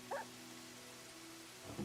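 Rain falls in a farming video game as a soft, steady hiss of patter. A couple of brief tonal blips come at the start and the end. The sound is quiet and short, with no voices.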